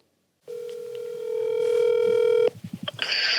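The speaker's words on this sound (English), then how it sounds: "let's get Reese on the phone and see what he has to say about all this" A telephone call is placed: a steady dial tone sounds for about two seconds, followed by a quick run of dialing tones and then a higher ringing tone, close and clear with no talk.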